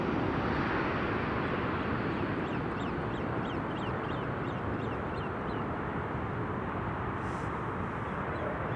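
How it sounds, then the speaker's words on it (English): A hungry baby grebe at Amsterdam Schiphol Airport gives a quick run of repeated high peeping calls, faint beneath a constant loud roar of wind and jet noise. "Big hungry baby grebe is making a lot of noise."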